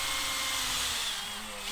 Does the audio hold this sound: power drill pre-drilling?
yes